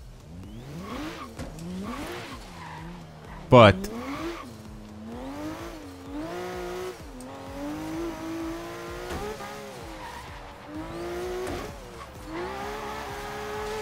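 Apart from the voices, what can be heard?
car accelerating and tires squealing in video game Forza Horizon 3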